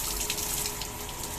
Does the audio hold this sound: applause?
no